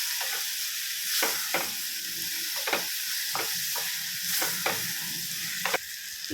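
Tomatoes with salt and turmeric sautéing in a pan for mutton liver gravy, a soft constant sizzle with a dozen or so clicking spatula stirs scraping the pan, close up, with no talking.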